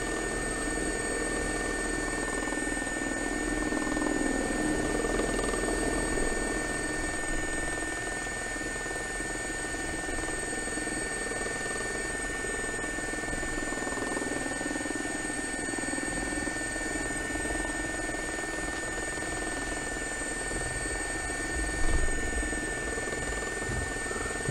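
An SA342J Gazelle helicopter flies in the X-Plane 11 flight simulator, its turbine whine and rotor drone a steady, loud, unbroken hum that stays constant throughout with no voices.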